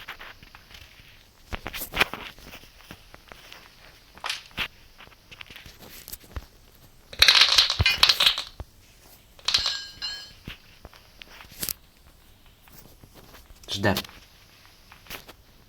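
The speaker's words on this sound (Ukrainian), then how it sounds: "Чую, бабка біжить." Running footsteps of the Granny character in the video game Granny Chapter Two: scattered soft thumps and a few louder, sharper bursts over about fifteen seconds, under intermittent talk.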